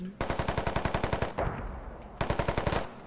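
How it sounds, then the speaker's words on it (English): Two rapid bursts of automatic fire from a long iron-sighted G3 battle rifle chambered in 7.62x51 in a video game, each burst a fast, evenly spaced string of loud, close cracks with a brief pause between. "He prefers to use the long variant of iron-sighted G3 rifle that the militia has."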